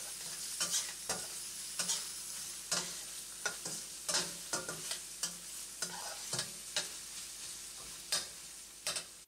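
Browned onions with ginger paste frying in a pan, a continuous sizzle broken by frequent sharp scrapes and clacks of a spatula stirring.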